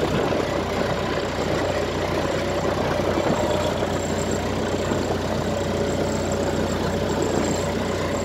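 A tractor engine idles steadily at close range on a farm field during the season's ploughing, a continuous even rumble with faint knocking texture and no voices over it.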